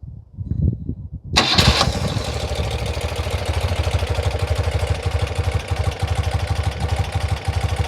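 A freshly restored engine catches almost instantly after a few quiet clicks, then settles into a loud, steady, close idle with a fast even pulse that runs through to the end.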